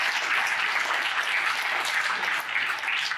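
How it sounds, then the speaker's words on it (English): Dense, steady applause from a sizable conference audience, loud and continuous throughout with no voices standing out. "let's give a round of applause to these people"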